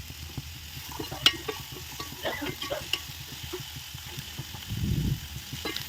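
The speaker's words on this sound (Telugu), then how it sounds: "ఆయిల్ వేసుకున్నాక 1 కప్ ఆనియన్స్ని ఫ్రై చేసుకోవాలి." A cup of onions frying in hot oil in a pan, a soft steady sizzle with light scraping and stirring clatter, fairly quiet throughout.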